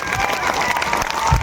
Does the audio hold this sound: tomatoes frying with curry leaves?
no